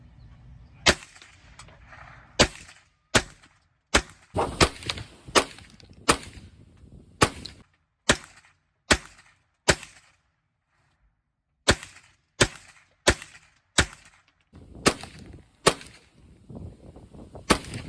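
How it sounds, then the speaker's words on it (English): A .22 rifle fires repeatedly at an outdoor shooting range, about fifteen sharp, loud cracks in uneven groups with short pauses between them, and no talking in between. "We shot the 22 rifle for a while longer before"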